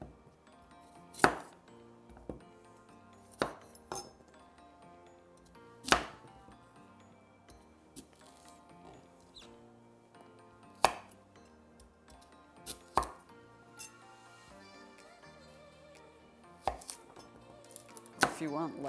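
A knife dices carrots, celery and onion on a cutting board, sparse sharp chops at irregular intervals, close and crisp against a quiet kitchen background with faint clinks between strikes.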